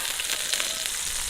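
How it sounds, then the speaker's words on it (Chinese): Scallion, ginger and small hot chilies stir-fry in oil in an iron wok over a wood fire, giving a soft, steady crackling sizzle throughout. "开始炒菜，锅里搁油，葱姜小米辣"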